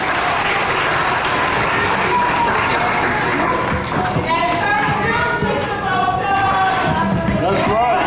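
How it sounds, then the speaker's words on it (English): An audience at a school African-American History event claps steadily and loudly throughout, a dense continuous applause with crowd noise and no break. "Can we give everybody a round of applause?"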